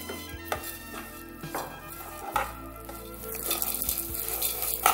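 Vermicelli (semiya) frying in a pan, with a soft sizzle and intermittent scrapes and clicks of a spoon stirring against the metal, close and fairly quiet.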